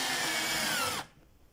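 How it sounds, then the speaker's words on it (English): A power drill drives a screw into a handmade sandal heel, whirring at a loud, steady high pitch for about a second before cutting off abruptly. "I'm going to use my drilling machine."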